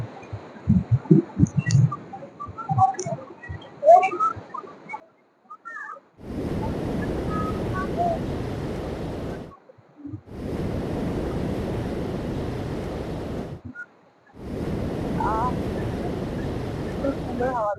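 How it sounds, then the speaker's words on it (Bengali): Big ocean waves roar onto Puri beach in strong wind, three long surging bursts separated by brief lulls, loud and close, after an opening stretch of murmured voices and crowd noise. "আর বিশাল ঢেউ, খুব ঢেউ, দারুণ হাওয়া দিচ্ছে"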